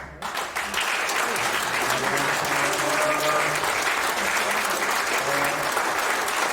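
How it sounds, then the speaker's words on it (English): A standing ovation from the audience at a Queensland Boxing Hall of Fame induction ceremony, dense sustained clapping that swells within the first second and holds steady and full, with murmured voices underneath. "Giving us standing applause."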